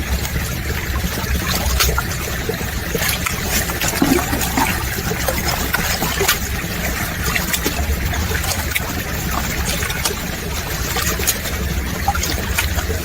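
Water and gravel swirled steadily in a gold pan holding black sand, a continuous close sloshing and rushing wash that stays loud and even throughout with no talking.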